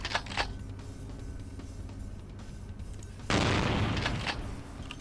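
Shotgun blasts in Vampire: The Masquerade - Bloodlines, a couple of booming shots with a heavy burst near the end, over a low game ambience.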